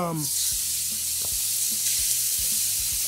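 85-15 ground beef sizzles loudly and steadily in a hot pan, a dense hiss broken by repeated scraping stirs as the meat is broken up.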